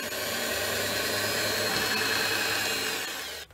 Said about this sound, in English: So I recommend drilling a small pilot hole.